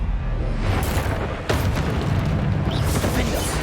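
A Descendo spell slams down in Hogwarts Legacy, a dense, loud burst of rumbling impact noise that keeps on with a sharp hit partway through and a voice talking over it.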